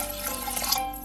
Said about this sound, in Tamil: 5 டம்ளர் தண்ணி குக்கரில் சேர்த்துக்கிறேன்.